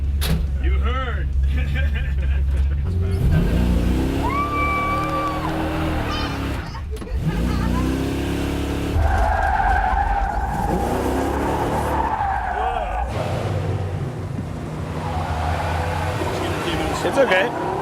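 The Green Hornet car accelerates and skids, tyres squealing in long sweeps over a steady engine roar, while voices talk over parts of the run.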